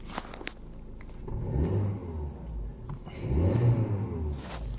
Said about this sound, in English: when you're able to rev it few times, it starts to work much better.